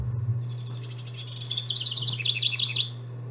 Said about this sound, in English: So this is a house wren